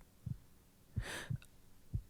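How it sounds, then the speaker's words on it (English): Fast heartbeat thumping close and soft, a few paired beats in a quiet setting with a brief breathy rush between them. "Actually, I didn't realize vampires had heartbeats."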